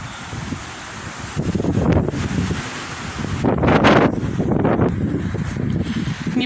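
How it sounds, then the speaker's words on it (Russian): Strong wind blows by the sea in a seaside park, roaring against the microphone in loud, surging gusts with rustling and a wash of surf underneath, and no one speaking. "ветер сумасшедший"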